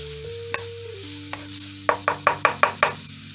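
Ground turkey fries in a pan under a low steady sizzle, with scattered utensil taps and then a quick run of six sharp scraping strokes near the end, close and without voices.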